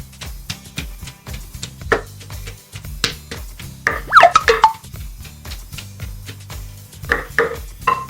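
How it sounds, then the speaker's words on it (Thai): Fresh chilies pounded in a mortar for a Thai dish, a quick run of sharp, close thuds in uneven bursts with a few light clinks of the pestle between strikes. "เราก็เอาพริกมาสำหรับตำเลยนะครับ"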